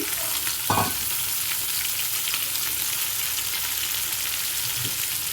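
Ridge gourd and tomatoes fry in a pan for chutney with a steady, constant sizzle, broken by a brief clank of utensil against pan near the start.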